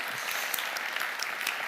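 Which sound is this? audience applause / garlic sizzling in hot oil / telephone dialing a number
audience applause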